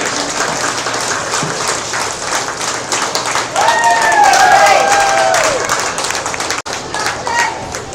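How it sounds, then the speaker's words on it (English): A crowd at a goat showmanship and market goat show applauds for a class of entrants, scattered clapping mixed with crowd noise, cheering and a voice over the arena sound. "Let's give a round of applause."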